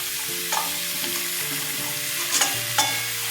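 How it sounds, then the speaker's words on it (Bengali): Potatoes, eggplant and beans sizzle steadily in a hot pan with green chilies, with a few sharp scrapes of stirring standing out above the continuous frying hiss. "দিয়ে দিলাম সবজিগুলো ছেড়ে দিচ্ছি"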